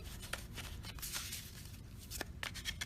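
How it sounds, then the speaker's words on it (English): A deck of playing cards is shuffled by hand in a quiet room, giving a quick run of papery riffles and snaps at close range, with several sharp card flicks toward the end. "I'm going to shuffle again"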